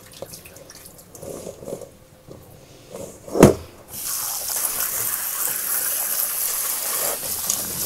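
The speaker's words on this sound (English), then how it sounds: "I'm going to drain and rinse my potatoes" Potatoes rinsed under a running kitchen tap: a sharp clatter near the middle, then a steady, close rush of water pouring into a sink or bucket that continues to the end.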